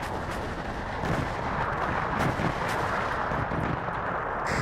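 Massed artillery firing in the strategy game WARNO, a loud, continuous rumbling barrage of overlapping booms with a few sharper reports standing out, dense and sustained throughout.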